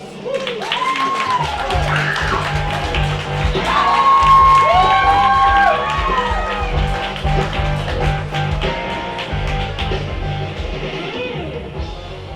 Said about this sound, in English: a thunderous round of applause for you